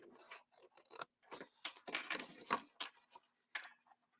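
Scissors cutting out paper shapes, a close, quiet run of short snips and rustling cuts in irregular rhythm, alone without talk.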